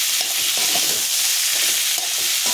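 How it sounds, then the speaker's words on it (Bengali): Shrimp curry with pointed gourd tips is stirred in a frying pan, giving steady close sizzling broken by repeated scraping strokes of the spoon. "আবারও একটু নাড়াচাড়া করে নেব"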